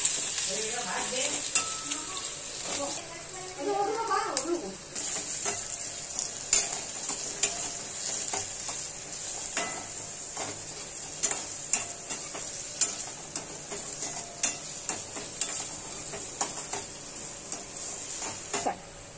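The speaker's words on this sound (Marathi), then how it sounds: "एक कांदा कापून उभा चिरून टाकलेला आहे आणि चांगलं लाल होईपर्यंत परतून घेऊया।" Sliced onion frying in a pan for a prawn rice dish, a soft continuous sizzle under repeated clicks and taps of a spoon stirring against the pan, fairly quiet and close.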